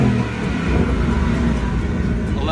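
A Ford car's exhaust rumbles low and steady with a slightly louder, fuller tone once sport mode opens an extra valve, heard close up.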